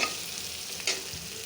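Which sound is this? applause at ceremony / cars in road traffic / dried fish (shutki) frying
dried fish (shutki) frying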